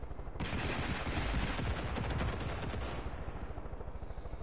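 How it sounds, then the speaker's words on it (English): A rocket barrage fires in Far Cry 5 Arcade gameplay: a dense, rapid stream of loud booming launches and blasts rolls on for about three seconds, then eases into a rumbling tail. "No, it's not proxies. That's my rockets, barrage."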